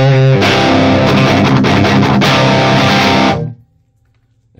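Electric guitar played through a multi-effects unit set to emulate a Marshall JCM 800 amp, a loud distorted chord ringing for about three seconds before cutting off abruptly into near silence.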